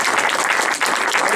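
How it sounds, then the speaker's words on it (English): An audience at an Eastbourne talk claps loudly and densely in welcome for a speaker, a short burst of steady applause heard close with no voices over it. "Applause for Paul Brett"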